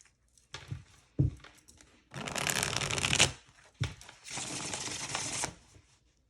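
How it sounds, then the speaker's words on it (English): Linen-finish cardstock oracle deck being shuffled in two long riffling bursts, preceded by a few soft taps and handling clicks; crisp, close and fairly loud with no talking. "Oh, it shuffles so good."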